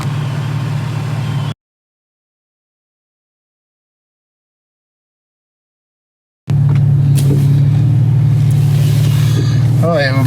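A car drives through Lakewood Cemetery on Clinton Blvd in Jackson, Mississippi, its steady cabin engine hum cutting out to silence for several seconds before resuming, with faint background sounds.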